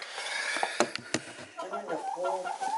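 Soft, chattering clucks from a nearby meat-breed hen, a run of varied murmuring calls with a couple of sharper bursts, fairly close and moderately loud.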